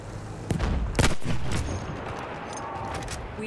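Battlefield 1 gunfire cracks out as three sharp, loud shots in quick succession near the start, followed by a rumbling battlefield din.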